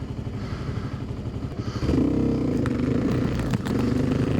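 Kawasaki KLX 300 dirt bike ridden on an easy trail at the Hatfield McCoy Trails, its engine chugging and then rising to a louder steady drone, with clattering and scraping over rough ground, close and with no talking.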